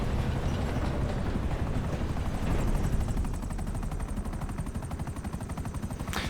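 A Buckingham Akula stealth gunship helicopter in a GTA video game flies close by, its loud rotor chopping in a fast, steady pulse and its engine droning, with no speech.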